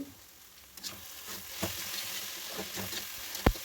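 Okra and onion egg fry sizzling in a pan with occasional scrapes and clinks of stirring, a sharp utensil knock near the end, steady and fairly close.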